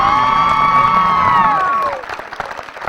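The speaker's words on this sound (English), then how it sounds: "And one more final round of applause for the Christian High School Patriots" A crowd at a high school softball game cheers for the Christian High School Patriots. Loud, sustained shouts and whoops fade after about two seconds into scattered clapping.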